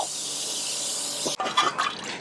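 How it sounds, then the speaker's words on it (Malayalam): Juice from two lemons poured into Hyderabadi chicken dum biryani masala, a steady close liquid hiss that cuts off abruptly, followed by a few soft wet splashes. "ഇനി അതിലേക്ക് രണ്ട് നാരങ്ങയുടെ നീര് കേട്ടോ"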